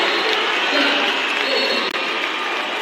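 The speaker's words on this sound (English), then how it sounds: "the crowd has been waiting to cheer for things too, and they exploded on that shot" A gym crowd at a high school CIF championship basketball game erupts after a three-pointer, a dense, loud roar of cheering and clapping that holds steady throughout.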